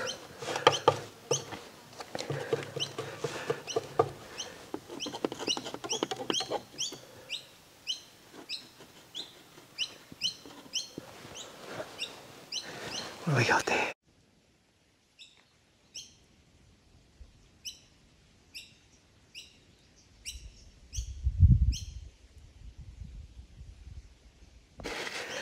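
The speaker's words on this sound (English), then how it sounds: "Those birds are certainly noisy. They just don't seem to want to stop." Small birds chirp and tweet repeatedly in short bursts outdoors, first amid busy background noise, then alone in near quiet, with a brief low thump.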